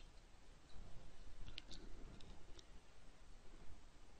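A computer mouse clicks a few times in quick succession, small sharp clicks close to the microphone over a low background murmur.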